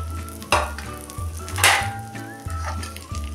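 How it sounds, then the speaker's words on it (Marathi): Vermicelli toasting with dry fruits in a pan for kheer, a soft dry crackle and sizzle with spatula scrapes and clinks against the pan at irregular intervals, close and moderately quiet, no voices. "शेवया आपण ह्या चांगल्या लालसर होईपर्यंत भाजून घ्यायचे आहेत"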